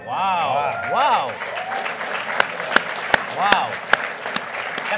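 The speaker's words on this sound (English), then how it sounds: "Let the record note that a giant room full of progressives just applauded Republicans" Audience applause in a large room of progressives, a short burst of clapping mixed with cheers and a voice that fades as the crowd settles, followed by a few sharp scattered claps.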